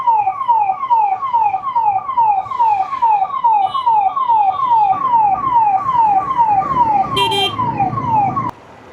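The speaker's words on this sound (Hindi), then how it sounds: "पुलिस है, एम्बुलेंस है, पुलिस है।" Police and ambulance sirens wail, sweeping up and down in rapid, overlapping cycles, loud and close, as the vehicles pass in Karol Bagh; a brief electronic chirp sounds near the end.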